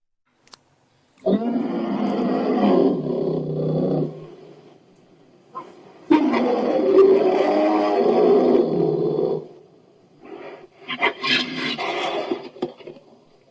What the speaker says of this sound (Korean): 곰의 소리를 들려드릴 거예요.